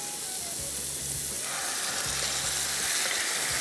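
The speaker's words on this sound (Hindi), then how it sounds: "जैसे ही पैन गर्म हुआ, इसके बाद हमने इसमें ये चिकन शामिल कर देना है।" Chicken frying in oil in a hot pan gives a steady, broadband sizzle and crackle that holds throughout, with a few low knocks from the pan or spoon and no talking.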